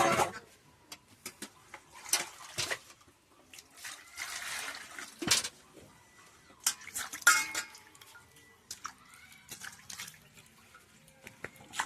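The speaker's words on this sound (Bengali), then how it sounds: "আলুটাকে একটু ধুয়ে নি" Potatoes are washed by hand in water, with sporadic splashes, drips and clinks from a pot or bowl in a quiet village kitchen. The sounds are near and fairly soft, and a voice speaks faintly at times.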